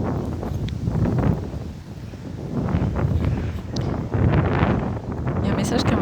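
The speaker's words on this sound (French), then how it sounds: "je sais qu'il y a du vent, je vais essayer de parler au plus proche du micro" Strong outdoor wind buffets a microphone with a continuous low rumble and gusting swells, while a person talks steadily over it throughout.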